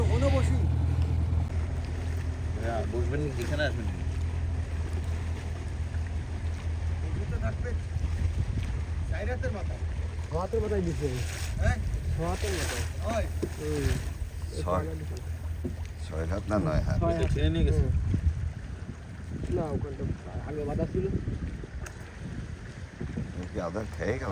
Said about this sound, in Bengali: ওদিকে সাগর থেকে ট্রলারগুলো ফিরছে মাছ বোঝাই হয়ে